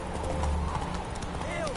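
Horse hooves clip-clop at a brisk trot in The Witcher 3 video game, rhythmic and close, under continuous talking.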